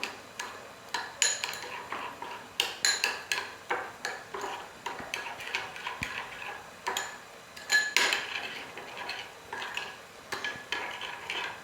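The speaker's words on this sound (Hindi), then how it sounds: "और ये मसाले दही में मिला लेंगे।" A spoon stirs spices into yogurt in a bowl for aloo matar pulao, clinking against the sides in a steady rhythmic series of close, bright taps with no talk.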